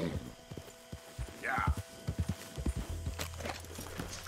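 A horse in Red Dead Redemption 2 gives a sharp whinny amid a quick run of hoof clops on the ground, set against faint game ambience.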